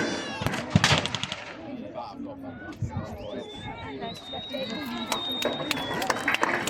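Bursts of blank-fired gunfire, including rapid machine-gun-style volleys, at a wartime reenactment event in Yorkshire, sharp cracks scattered over a busy outdoor crowd with babble and movement throughout.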